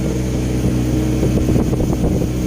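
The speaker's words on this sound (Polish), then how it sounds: "dużo ciszej silnik pracuje" A boat engine runs steadily and loudly up close, a constant low drone with wind buffeting the microphone and no speech.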